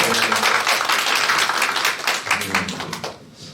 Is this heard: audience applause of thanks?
yes